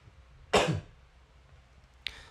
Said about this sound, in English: I'm going to have to clear my throat here